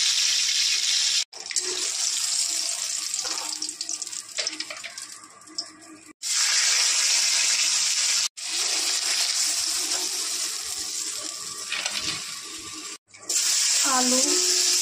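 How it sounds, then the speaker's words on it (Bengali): Fish heads frying in white vegetable oil for a Bengali fish head curry, giving a steady close hiss and sizzle with a few brief cuts. "সাদা তেলে বড়িগুলো ভেজে নেব, মাছের মাথা ভেজে নেব।"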